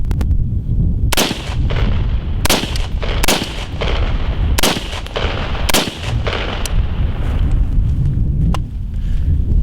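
Rifle shots fired from a kneeling, supported position at 25 meters with a Trijicon RX30 optic, a string of loud, sharp reports spaced about a second apart over steady outdoor background noise.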